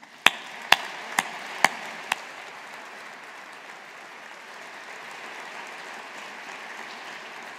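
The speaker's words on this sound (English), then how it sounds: "So let's take this opportunity to show our appreciation and gratitude with another round of applause." Audience applause at a university graduation ceremony at Strathclyde Business School, opening with several sharp loud claps before settling into a softer, sustained spread of clapping across a large hall.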